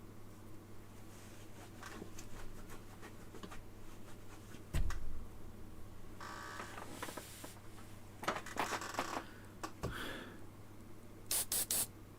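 An airbrush sprays paint in short bursts of soft hiss, with light ticks and clicks in between and a low steady hum of a compressor underneath; quiet and close.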